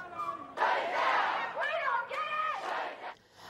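Protesters gathered outside police headquarters in Chicago against police violence toward Black people, their chanted slogans rising in loud rhythmic crowd voices that swell and fall across the moment.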